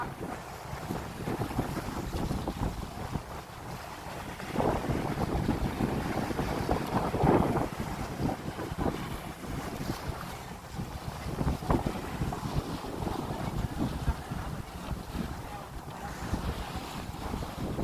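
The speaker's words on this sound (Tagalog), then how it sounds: "lakas ang hangin" Strong wind roars and buffets continuously over a dragon boat on open water, with gusty rumbling and water splashing beneath it, loud and close throughout.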